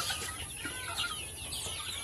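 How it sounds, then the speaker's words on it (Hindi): A crowd of chickens at a farm feeder clucks and chatters continuously, many birds overlapping in a busy, steady din at close range with no talk. "एक में 30 मुर्गियाँ खा सकते हैं एक साथ"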